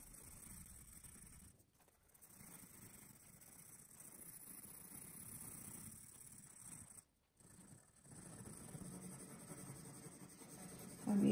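A soft 9B pencil shades dark tones on paper while drawing a mug, giving faint, close, scratchy strokes that run almost continuously with two brief pauses.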